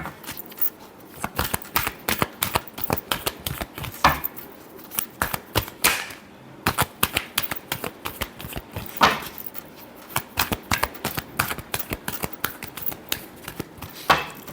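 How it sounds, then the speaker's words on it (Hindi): Tarot cards are shuffled by hand in quick, irregular bursts of crisp riffling and slapping, close and loud, with brief pauses between rounds. "Last shuffle."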